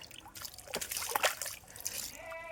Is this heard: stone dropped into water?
yes